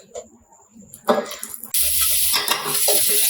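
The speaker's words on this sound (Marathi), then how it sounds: "तेल सुटेपर्यंत आपण वाटण छान परतून घ्यायचं." Ground masala paste for a spicy mutton rassa hits hot oil and fries. Soft scraping and stirring clatter give way to a loud, steady sizzle that holds to the end.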